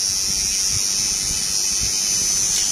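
Rechargeable electric shaving trimmer switched on and running, a steady high-pitched motor whine holding constant and close for the whole stretch with no talk.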